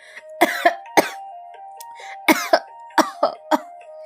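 A man coughs again and again in harsh, separate bursts, several in quick succession with short pauses, close and loud over a faint steady tone during a Bengali short-story reading.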